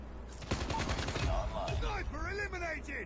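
Rapid gunfire from an M4 rifle in Call of Duty Mobile crackles in dense bursts, mixed with a player talking excitedly in Spanish over the shots.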